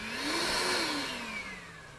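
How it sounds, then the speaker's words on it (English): A Ryobi PCL734 18V 3-gallon wet/dry vacuum runs with a steady, close motor roar and a whining tone that sweeps slowly, heard alone for a couple of seconds. "Now we'll take a look at the PCL734, which is the 3 gallon version of the wet dry vac."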